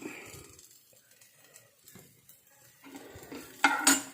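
Chopped onion, garlic, ginger and curry leaves sautéed in a pan for a fish curry: soft, quiet sizzle with scrapes and clinks of a utensil against the pan, growing to louder stirring clatter near the end.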